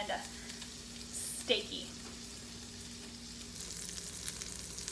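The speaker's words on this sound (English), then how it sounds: "So we're gonna push it down with a spatula and try to get it nice and like squished" A steak burger patty sizzles on a hot surface while a spatula presses it flat, a steady low frying hiss with a brief scrape and clack in the middle; a voice speaks faintly at the start.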